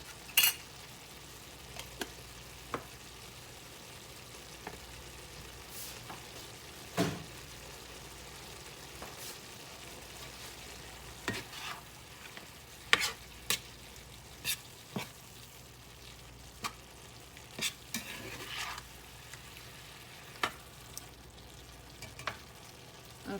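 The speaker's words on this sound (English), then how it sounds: "I'm going to go ahead and add the rest of those tomatoes and that juice." Tomatoes and their juice stirred into a sizzling pan of cowboy pasta with melting cheese: a soft steady fry under scattered scrapes and clinks of a spoon against the pan, close and fairly quiet, with no talking.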